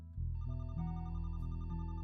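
A telephone rings inside the detective puzzle game The Roottrees are Dead, a steady electronic ringtone that sustains without pause over a low musical drone, with no voices.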